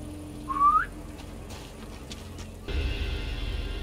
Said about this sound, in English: We're gonna do the whistle.